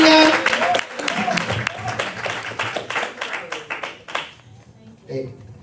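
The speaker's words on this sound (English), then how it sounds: "let's give the Lord a hand clap of praise." A church congregation claps in praise, dense overlapping handclaps that carry for several seconds with voices calling out over them, then thin out and fade near the end.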